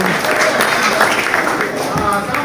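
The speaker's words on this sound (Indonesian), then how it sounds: "Kita berikan tepuk tangan sekali lagi" Audience at a company Christmas service in Manokwari applauding, a short stretch of sustained clapping heard over a reverberant hall with a voice speaking through it.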